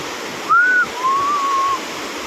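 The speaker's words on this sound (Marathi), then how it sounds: "हा धबधबा बघू शकतो तुम्ही।" A waterfall gives a steady, even roar of rushing water. Two brief whistled tones rise above it partway through.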